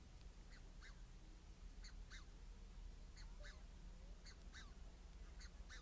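Egyptian geese with goslings calling outdoors, with short harsh honks in quick pairs repeating steadily about every second, moderately close over a constant low background rumble and no talking.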